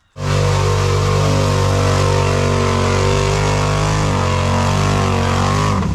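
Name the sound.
Can-Am Renegade 1000 XMR ATV engine revving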